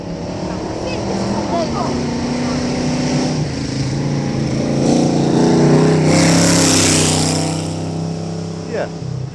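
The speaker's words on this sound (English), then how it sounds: "Here comes that hot rod." A hot rod with a full WRC-spec engine and exhaust roars and builds as it approaches and passes close by at the Shelsley Walsh hill climb, revving hard with a deep rumbling exhaust.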